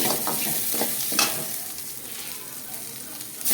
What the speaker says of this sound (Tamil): வரமிளகாய் 2 பிச்சு போட்டுக்கலாம்.